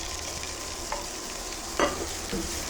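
Onion sizzling as it is stir-fried for pancit, a steady hissing fry with a couple of brief scraping stirs of the pan, close and fairly quiet, with no talking.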